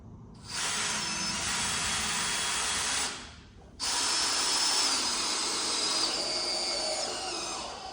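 A power drill drives screws into 2x4 rafters for a tiny A-frame cabin kit, giving two loud, sustained whirring runs close by with a short pause between them.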